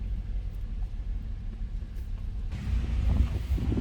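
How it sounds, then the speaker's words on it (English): Wind buffets a campground beside a beach in William C. Sterling State Park, Monroe, Michigan, a low blustery rumble against the microphone that swells louder and rougher partway through. "It is very windy today."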